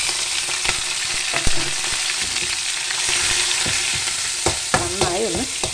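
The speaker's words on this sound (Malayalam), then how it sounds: "നന്നായി ഒന്ന് മൂപ്പിച്ചെടുക്കാം" Green chili, crushed garlic, ginger and curry leaves sauté in hot oil with a loud, steady crackling sizzle, punctuated by repeated spatula scrapes and knocks against the pan, and no voices.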